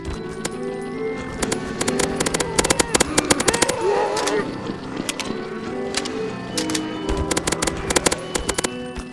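Rapid automatic gunfire rattles in bursts through a Counter-Strike: Source zombie escape round, sharp repeated shots over game music, with a player talking now and then.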